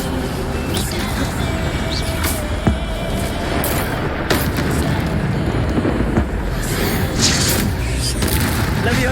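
Spell blasts and booming magical impacts in the Hogwarts Legacy game, loud and continuous with several sharp thuds and bursts over a dense rumbling backdrop.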